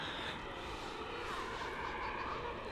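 A Boeing 737 Max 8 airliner taxis toward the runway for departure at Bristol Airport, its engines giving a steady, broadband roar that holds even and fairly loud throughout, with no voices heard.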